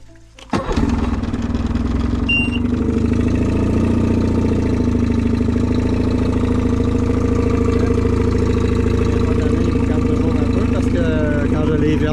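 A primed engine, run for the first time of the year, catches after a brief crank and settles into a loud, steady running drone that holds close and continuous to the end.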